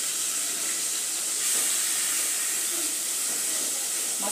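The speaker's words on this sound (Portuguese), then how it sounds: "eu já vou começar a fritar aqui o carneiro" Lamb meat fries in a pan in a home kitchen, making a continuous soft hiss of sizzling fat that stays fairly quiet and even, with no talking.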